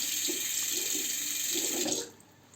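Running tap water splashes steadily into a sink as a vintage Gillette Slim Adjustable safety razor is rinsed, the flow cutting off abruptly near the end and leaving a quiet room.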